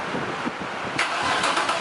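An Infiniti G35 with a newly installed throttle body cranks and catches, its engine bursting into life with a rising roar about midway, close by and with no voices.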